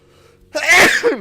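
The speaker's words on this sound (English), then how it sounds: "I really can't hold my sneezes in anymore." One sharp, loud human sneeze up close, a brief quiet inhale and then an explosive burst lasting under a second.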